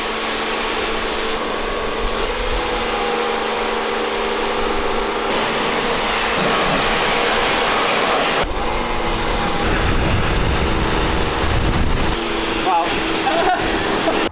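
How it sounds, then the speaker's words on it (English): A pressure washer hisses steadily as it sprays snow foam onto a Cupra R, running almost without a break. Faint voices are heard under the noise. "Snow foam jet wash."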